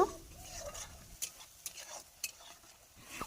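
Mustard paste with salt being sautéed in a pan for a boal fish dish makes a faint, low sizzle broken by a few soft stirring clicks.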